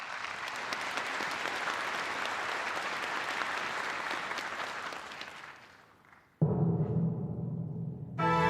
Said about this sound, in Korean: 여러분 박수로 맞이해 주시기 바랍니다.